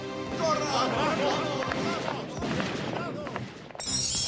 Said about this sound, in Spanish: ¡Vienen los rebeldes y están disparando!